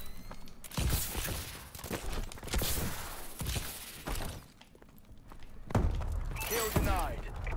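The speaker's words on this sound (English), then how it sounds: "Who's shooting the MK14 over here?" MK14 rifle gunfire in the Call of Duty: Advanced Warfare video game, sharp cracking shots and bursts scattered across the moment amid heavy in-game action noise, with a voice talking over parts of it.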